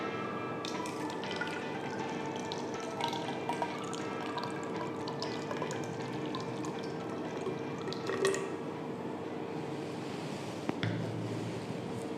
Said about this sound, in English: with the help of measuring cylinder, I am taking 90 ml of water.